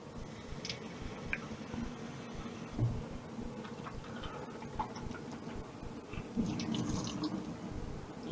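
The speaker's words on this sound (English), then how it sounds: "Just rinsing off that kind of liquid stuff the tin comes in." Canned kidney beans are rinsed under a running tap in a kitchen, with a faint steady flow of water, light splashing and occasional small ticks and clinks.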